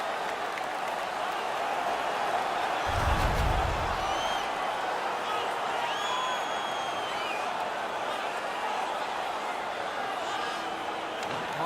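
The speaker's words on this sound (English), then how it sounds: "The crowd is now back in it." A hockey arena crowd roars with a broad, steady wash of cheering and applause after a fight, and the noise stays loud throughout. A commentator's voice and a brief low thump come through the din.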